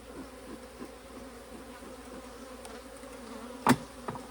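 Honeybees droning steadily inside a hive box during a queen-rearing setup, a continuous near buzz with a brief louder burst near the end.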